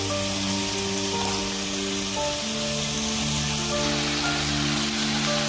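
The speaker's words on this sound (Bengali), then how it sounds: "এক পাশে চিকেন ভাজতে দিয়ে অন্য পাশে আমি কিছু সবজি বয়েল করে নিচ্ছি।" Chicken frying in a pan, a steady dense sizzle and crackle running continuously with a low hum underneath, loud and close throughout.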